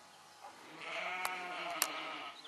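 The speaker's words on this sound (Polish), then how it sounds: "bariera językowa dla baranów i owiec tutaj nie istnieje, tak samo meczą jak w Polsce" Sheep and rams bleating in rural countryside near the Polish border in the Czech Zaolzie region, a wavering bleat rising over a soft background with two short sharp clicks, moderately distant.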